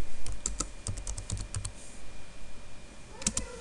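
Rapid clicking keystrokes on a computer keyboard come in uneven bursts, close and clear, with a pause in the middle before a final quick pair of taps.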